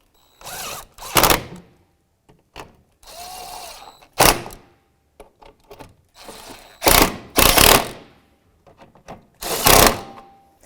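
A ratchet turning a 10mm socket on the radiator bolts of a 2004-2009 Subaru Outback gives short, sharp bursts of clicking separated by quiet pauses, recorded close up with no talking.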